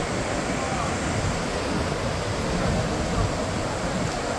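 Niagara Falls, on the border between New York and Ontario, sends out a dense, continuous roar of crashing water that stays loud and steady for the whole stretch.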